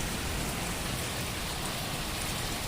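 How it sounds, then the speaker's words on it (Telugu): Heavy rain pours down in Mehdipatnam, Hyderabad, a dense, unbroken hiss of drops on surfaces, steady and close, with no voices. "మాదిమెహదీపట్నంలో వర్షం అస్సలు విపరీతంగా వస్తుంది"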